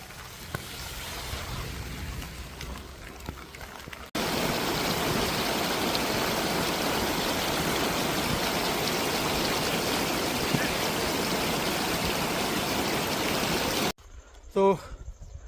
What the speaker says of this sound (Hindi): तो देखिए बारिश शुरू हो गई है